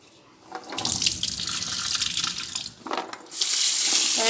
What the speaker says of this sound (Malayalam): ഞാനിവിടെ ഒരു 10-20 ചക്കക്കുരു എടുത്തു. അത് നമുക്ക് നന്നായിട്ടൊന്ന് കഴുകാം.